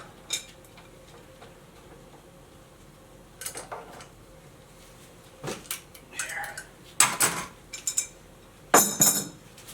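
Two metal wrenches work to loosen a Tritech T5 paint spray gun jammed with hardened 2K catalyzed paint, giving sparse metallic clinks and taps that grow busier and louder toward the end.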